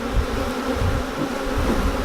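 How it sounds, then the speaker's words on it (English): A honey bee buzzes steadily on a hive frame during a beekeeping inspection, a close, continuous drone that holds even for about two seconds with no talk over it. "Right here is a bee with pollen."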